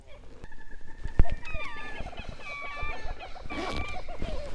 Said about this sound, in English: There's so many just crazy birds out here. Make all sorts of sounds.